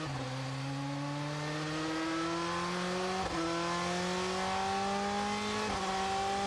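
A GP2 race car at Bahrain pulls away in qualifying with a high, rising engine whine through two quick upshifts, loud and steady with no voices.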